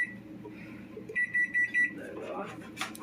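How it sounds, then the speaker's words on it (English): Kitchen oven timer beeping four times in a steady even rhythm, clear and fairly close, while a person talks quietly in the background. "There's the timer."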